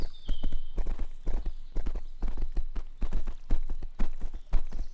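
Horse hooves galloping in the video game Hellish Quart, a loud, close, rhythmic clip-clop of repeated hoofbeats in quick clusters, continuing steadily with no talk.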